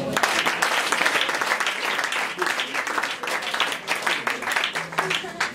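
A church congregation at an Easter service applauds and cheers, a dense, continuous wash of clapping throughout with voices mixed in the crowd noise.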